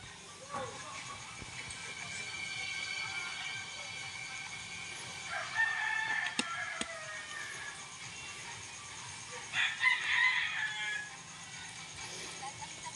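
A rooster crows a couple of times outdoors at moderate distance, in short bursts over steady background noise.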